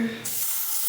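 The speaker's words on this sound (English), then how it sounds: "give it a good spray" A spray bottle fires one close, loud hissing burst onto the lace of a 613 wig, starting a quarter second in and holding steady to the end after a brief low murmur.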